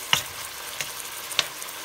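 Pieces of meat fry in a pan for pepper steak, giving a close, steady sizzle with a few sharp crackling pops and no voices.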